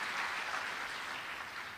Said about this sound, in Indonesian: Kasih tepuk tangan dulu buat Tuhan kita.